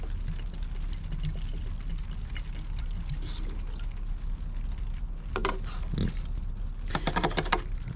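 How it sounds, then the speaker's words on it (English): Fuel additive is poured into the empty tank of a Husqvarna leaf blower, a faint trickle and gurgle over low background hum, followed near the end by a few sharper handling knocks. "So I'm gonna see if I can't just dump some of this in this empty tank."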